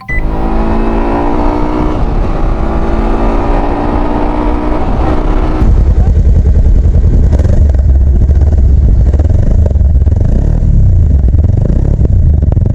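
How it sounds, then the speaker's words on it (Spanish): A Kawasaki Versys-X 300 motorcycle engine idles and then revs up, rumbling heavily up close and steady for several seconds. "Suena muy bonito, muy agradable, se siente el motor fuerte, sólido."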